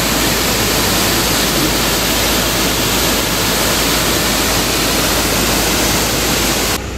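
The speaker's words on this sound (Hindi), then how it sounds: "अभी मानसून का सीजन चल रहा है, चारों तरफ झरना ही झरना है।" Loud, steady rushing roar of monsoon-season waterfalls in the mountains of North Sikkim, a broad continuous wash of falling water filling the whole stretch with no voices, cutting off abruptly at the very end.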